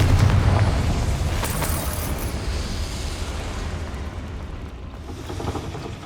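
A Confringo explosion spell in Hogwarts Legacy bursts loudly at the start, and its booming rumble slowly decays over several seconds with rattling debris-like texture.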